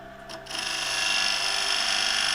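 A skew chisel cuts a fiddleback claret ash bowl on a lathe, a steady, fairly quiet hiss of tool on spinning wood that settles after a brief rise and holds even throughout.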